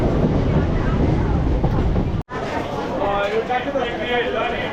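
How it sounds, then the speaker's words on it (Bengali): A local train rumbles and clatters loudly into Lakshmikantapur station, a dense broadband roar, with a voice talking over it. "আমাদের ট্রেন এখন পৌঁছে গেছে লক্ষ্মীকান্তপুর"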